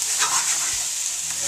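Onion and garlic sizzle steadily in a hot pan, with a utensil scraping and stirring through them, close and continuous with no voices.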